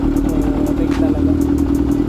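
A Yamaha XJR400 motorcycle engine idles close by with a steady, slightly uneven throb and light mechanical clatter, during troubleshooting of its electrical system.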